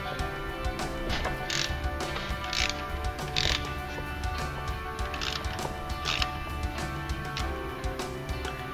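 Differential cover bolts on a Jeep WJ being loosened with a ratchet, giving repeated clicking pawl bursts in a steady rhythm, close and clear against a low garage hum.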